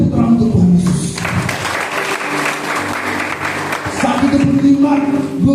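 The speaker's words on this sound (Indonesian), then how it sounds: "Beri tepuk tangan untuk Tuhan Yesus." Congregation clapping during an evening church worship service, a broad wash of applause in the middle with music and voices around it at the start and end.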